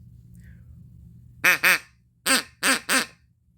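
A Double Cross duck call blown to imitate a duck, giving two quick quacks, a pause, then three more in a row, close and clear over a quiet indoor hum.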